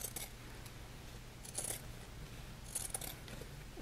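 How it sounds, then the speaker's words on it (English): Pinking shears trimming fabric close to a purse seam: a few quiet, crisp snips spaced irregularly, each a short metallic crunch against a hushed room. "I'm gonna go ahead and trim this with pinking shears."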